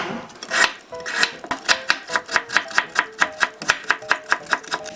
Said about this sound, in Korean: 당근도 곱게 채를 썰어주세요.